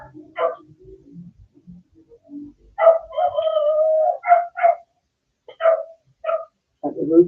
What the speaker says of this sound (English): Got the rooster and the dog battling right now.